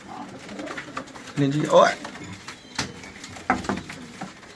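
Pigeons coo in low, rolling calls close by, with a louder burst in the middle and softer coos around it, while someone speaks briefly in Hindi.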